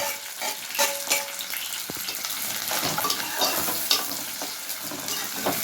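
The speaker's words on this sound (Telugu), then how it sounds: "ఉల్లిపాయ, కరివేపాకు, ఎండుమిరకాయ వేసి ఓగు తిప్పుతుంది" Onion, curry leaves and dried red chillies fry in hot oil while being stirred, giving a steady close crackling sizzle punctuated by spatula scrapes and a sharp knock, with no one speaking.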